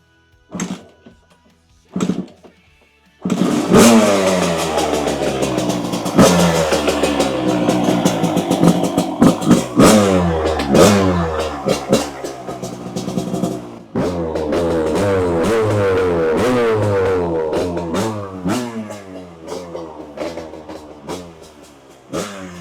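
A Suzuki RMX 250 two-stroke dirt bike is kicked twice, then fires and revs hard in a garage with a choke on, a loud, sustained buzzing engine rising and falling through repeated throttle blips with a brief dip midway.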